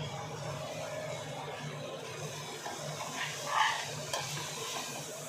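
Mint and coriander leaves frying in a pan for kushka give a soft, steady sizzle with faint stirring scrapes, one slightly louder stir near the middle, quiet and with no speech.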